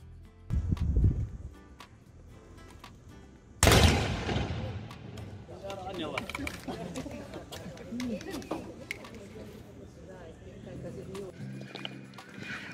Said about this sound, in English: we just saw them shoot 3 rounds on an antique rifle